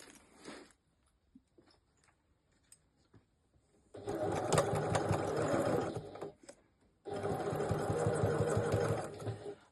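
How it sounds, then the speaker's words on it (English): Sewing machine stitching a fabric crossbody bag, a few faint taps first, then two sustained loud whirring runs of rapid stitching separated by a short pause. "I'll just go and stitch that on now."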